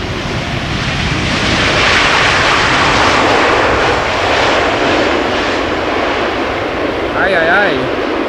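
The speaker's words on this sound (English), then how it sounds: "Let's first look and listen to the 747" A Boeing 747 passes close by at Amsterdam Schiphol Airport, its loud, broad jet roar filling the whole stretch and swelling slightly midway, with a brief voice near the end.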